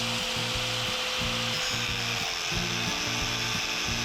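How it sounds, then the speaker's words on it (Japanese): The top steel floor plate of a Hino Profia Terraby truck is cut through with a steady, loud, rasping grind and a repeating low pulse that continues for the whole stretch. "一番上の鉄板を切っています。"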